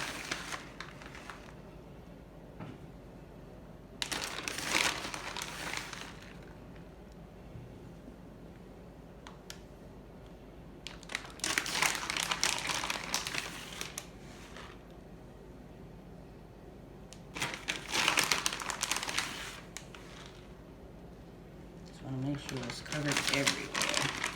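Paper packaging crinkles and rustles in bursts while cheese is unwrapped in a kitchen, several crisp close crackling spells separated by quieter stretches with talking in between.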